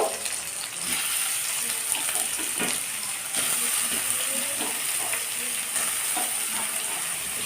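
Potato pieces and soybean chunks fry lightly in a pan with a continuous, even sizzle, close and fairly loud, broken now and then by soft knocks and pops.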